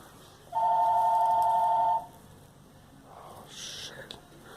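A telephone rings once with a steady electronic tone lasting about a second and a half, loud and close, followed by quieter rustling and faint background sounds.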